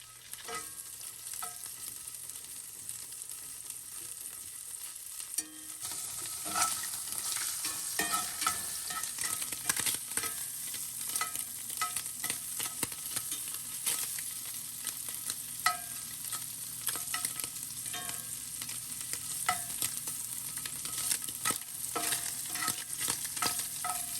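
Ham fries in oil in a pan with a quiet start, then a bright, continuous sizzle from about five seconds onward, broken by frequent scraping and stirring sounds close by.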